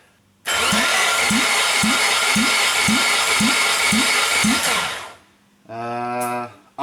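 A Nissan Sentra engine cranks over on its starter during a compression test, a steady whirring with about seven even rhythmic compression pulses, stopping abruptly, then a brief second burst of cranking.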